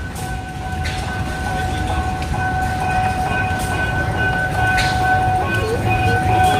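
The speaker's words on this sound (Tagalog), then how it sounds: "Here comes the train. It's slowing down." A fair train rolls in and slows, its steady rumble and squealing wheels or brakes loud and close, with voices faintly audible underneath.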